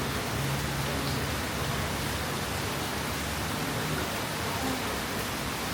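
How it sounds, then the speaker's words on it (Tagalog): Heavy rain in Tagaytay pours down as a dense, even hiss that stays loud and unbroken throughout. "Hirap ng ulan ah."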